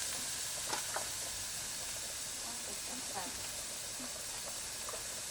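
Food browns in a pan for Peruvian tallarines verdes, giving a steady low hiss of sizzling with faint scattered crackles throughout.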